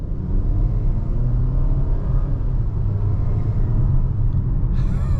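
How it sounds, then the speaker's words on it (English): A 2022 Volvo XC40 T5 R-Design accelerates uphill at half throttle, its engine and turbo giving a steady low rumble from inside the cabin, fairly loud and continuous, with a brief higher whoosh near the end. "This car makes some pretty cool turbo noises too."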